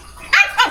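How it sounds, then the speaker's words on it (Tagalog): A single dog gives one or two quick, sharp barks, loud and close, with nothing else around it. "Ingay naman yung aso na yan."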